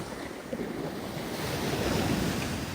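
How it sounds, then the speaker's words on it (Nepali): Sea waves break and wash onto the shore on a windy beach, a broad continuous roar that swells slightly louder toward the end, with wind buffeting the microphone and no voices. "पानीको छाल"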